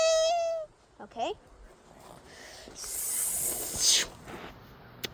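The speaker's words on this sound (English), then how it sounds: "Meowing!" A cat meows near the start with a clear tonal cry, then gives shorter chirps, followed by a hissing, rushing burst; the sounds are fairly close with quiet gaps between.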